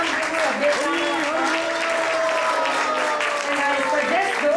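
A temple festival audience claps for Radhika Raman Prabhu. The steady, dense applause lasts throughout, with voices and tonal sounds carrying over it.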